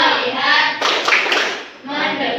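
Children in a classroom do a rhythmic clap chant, sharp group claps mixed with chanting young voices, loud and close throughout.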